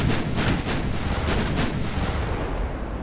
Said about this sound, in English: And now it's just fire everything into this one battleship and sink it.